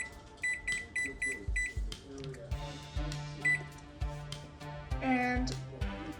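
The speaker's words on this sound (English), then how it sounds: "Now you're gonna set your timer for 11 minutes." An oven timer is keyed in for 11 minutes, with a run of short electronic beeps as buttons are pressed, then a longer tone, heard up close in a kitchen while cookies bake.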